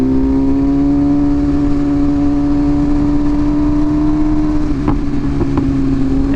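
A 2023 BMW S1000RR sportbike with a $3,000 aftermarket exhaust holds a loud, smooth engine note that rises slightly, then lets out a few sharp crackling pops near the end, heard up close.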